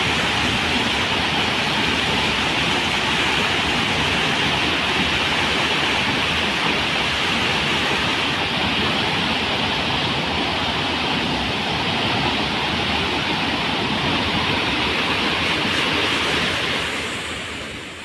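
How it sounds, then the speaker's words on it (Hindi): A roaring monsoon waterfall at Mahadev Khoh near Nauhatta in Rohtas, Bihar, pouring off a hill of the Kaimur range, a dense, loud, steady rush of crashing water filling the whole stretch, easing only slightly at the very end. "पानी का ये शोर डराने वाला है। पहाड़ से गिरता झरना अपना रौद्र रूप दिखा रहा है।"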